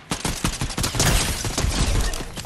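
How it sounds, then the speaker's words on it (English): Rapid bursts of gunfire in a squad battle royale video game crackle loudly and continuously, shot after shot overlapping in a dense barrage with no voices. "Oh, shots southeast."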